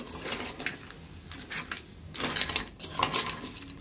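Crab pieces dropped into a cooking pan, close clattering of shells and metal in short bursts, loudest near the end, with no voices.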